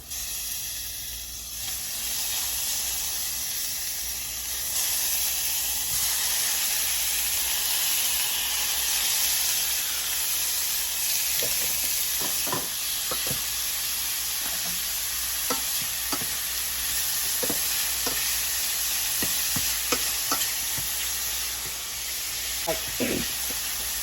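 Shrimp dropped into a hot pot while cooking shrimp pho give a loud, steady sizzle and hiss, followed by scattered clacks of stirring utensils against the pot.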